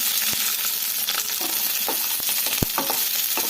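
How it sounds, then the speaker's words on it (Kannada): Chillies fry in a little oil in a pan for peanut chutney, a soft continuous sizzle broken by sharp clicks and scrapes of stirring, close and alone. "ಒಂಚೂರು ಆಯಿಲ್ ಸೇರಿಸ್ಕೊಂಡಿದ್ದೀನಿ ಮೆಣಸಿನ್ಕಾಯಿ ಸೇರಿಸ್ಕೊತಾ ಇದ್ದೀನಿ"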